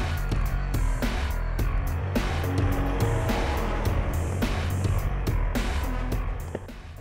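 A new Land Rover Defender fitted with the Offroad Package drives along, its engine and rolling tyres a close, continuous rumble with bumps and knocks, fading somewhat near the end.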